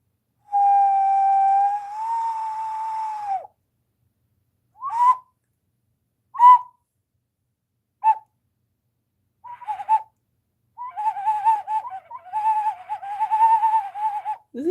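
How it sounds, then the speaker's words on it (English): Someone blows a bird whistle: a long warbling tone first, then short isolated chirps and trills with pauses between, ending in a run of fluttering warbles, clear and close against silence. "This is just a bird whistle."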